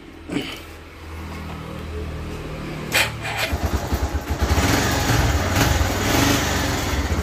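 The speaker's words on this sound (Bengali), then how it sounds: "কোনো ইঞ্জিনে আওয়াজ টাওয়াজ নেই, দেখিয়ে দিচ্ছি আমি" An old second-hand motorcycle engine idles steadily up close, then shifts into a series of quick rhythmic revs that build and hold, with no talking over it.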